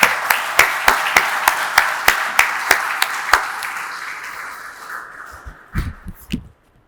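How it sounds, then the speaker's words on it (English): At a memorial lecture on leadership, an audience applauds the speaker. Clapping starts as a series of sharp, rhythmic, synchronized claps, then blends into a fading wash and ends with a few louder nearby knocks. "may I request you all to give a round of applause to our speaker, Shankar"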